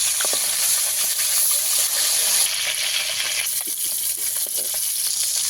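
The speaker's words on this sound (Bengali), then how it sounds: "ভালো করে মাছগুলোকে ভেজে নিতে হবে লাল লাল করে।" Fish pieces coated in salt and turmeric fry in hot oil in a pan, giving a loud, steady sizzle and hiss throughout with occasional crackles and no talking.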